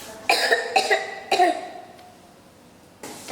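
Three quick harsh coughs in a row, close and fairly loud, followed by quiet and a faint start of another.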